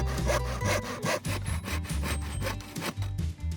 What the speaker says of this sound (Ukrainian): В руки пилку і відпилюємо по лінії.